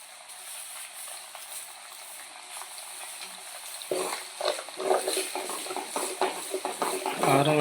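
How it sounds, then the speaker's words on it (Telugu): Prawn pickle frying in oil in a pan on low heat: a soft, steady sizzle that turns busier halfway through as stirring and scraping join in, close-up and moderately loud. "సిమ్లో పెట్టుకొని మనం ఫ్రై చేసుకోవాలి కదా"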